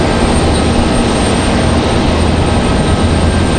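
A Boeing 787 Dreamliner airliner at Raleigh-Durham airport produces a loud, steady, broadband engine roar that holds constant and close throughout, with no voices.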